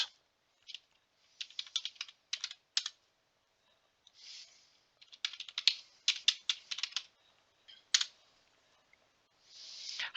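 Typed commands being entered on a computer keyboard for the text-parser adventure game Space Quest I, heard as bursts of quick key clicks separated by short pauses, fairly faint and close with no talk.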